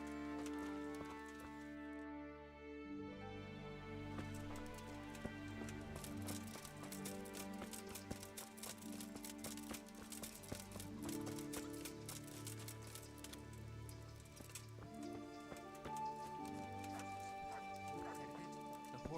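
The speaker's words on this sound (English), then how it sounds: "The horses." Horse hooves in Kingdom Come: Deliverance, clip-clopping steadily beneath a dense, loud game score throughout, partly masked by the music.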